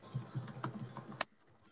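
Quick keystrokes on a computer keyboard tap out an irregular burst of clicks close by, ending with one sharper key press before the room falls nearly silent.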